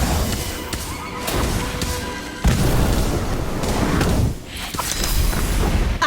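The Incendio fire spell cast in Harry Potter: Magic Awakening, with loud whooshing fiery bursts and deep booms in quick succession, surging sharply midway and again near the end, with no talking.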